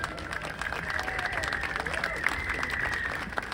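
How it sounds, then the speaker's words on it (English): An outdoor crowd at the San Francisco 1906 earthquake and fire anniversary ceremony applauds the Guardians of the City, steady moderate clapping with a faint tone and voices underneath. "Would you give them a nice round of applause, please?"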